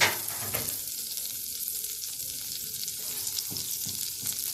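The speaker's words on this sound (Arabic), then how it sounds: "هننزل بحته زبده صفرا. دي زبده صفرا." Yellow butter melts in a hot pan with a steady, close, continuous sizzle and soft crackle, with no talking.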